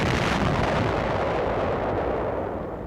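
A heavy WW2 mortar fires with a remote firing button, giving a loud, sustained broadband blast with a deep rumbling roar that slowly fades.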